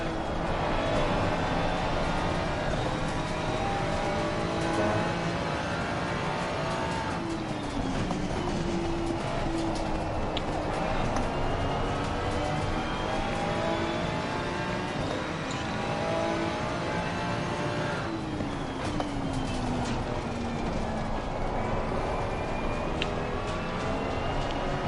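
Continuous roar of race car engines, including a Porsche, in a racing video game at Watkins Glen, with steady droning revs and rising and falling pitch sweeps as gears shift, loud and unbroken with no talking.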